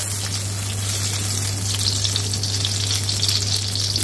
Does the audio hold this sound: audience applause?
no